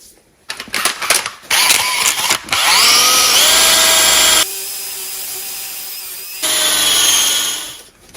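A power tool whirs up to speed and runs steadily while polishing aluminum shocks from a 1979 Honda XR500 motorcycle with metal polish. The loud motor whine shifts pitch under load, drops away briefly and then resumes before it winds down.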